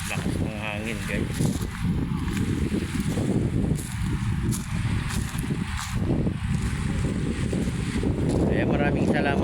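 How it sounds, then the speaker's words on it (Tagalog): Strong wind whips across Manila Bay, a steady loud roar and microphone buffeting, with a person talking throughout. "Lakas ng hangin"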